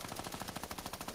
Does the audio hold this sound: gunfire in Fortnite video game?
yes